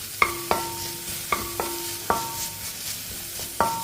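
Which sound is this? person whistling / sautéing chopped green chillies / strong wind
sautéing chopped green chillies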